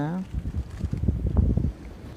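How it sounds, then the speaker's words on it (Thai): Strong wind gusting outdoors by the sea, a low rumbling buffet against the microphone beneath someone talking. "ลมแรงมากเลยค่ะ"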